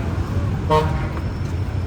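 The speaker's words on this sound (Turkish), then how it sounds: "Gürültü, hava kirliliği, koşturmaca," A car horn toots once amid steady roar of traffic on a busy street in the Philippines, the honk loud and brief over continuous engine noise.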